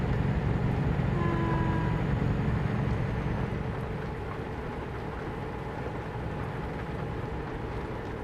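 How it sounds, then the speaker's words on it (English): A truck rumbles past with a steady low droning roar that slowly fades as it moves away, a faint tonal whine drifting over the noise early on, and no voices present. "sounds of a truck, that's all"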